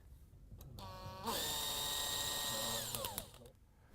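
Power drill boring holes for self-tapping screws during a bracket installation, a brief whine that rises, holds steadily for about two seconds, then winds down, close and alone.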